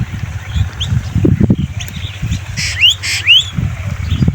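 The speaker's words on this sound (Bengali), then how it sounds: "কত সুন্দর পাখির কোলাহল ডাক" Small birds chirp and call out in the open on a cold winter morning, a few bright calls rising over a steady low rumble of background noise.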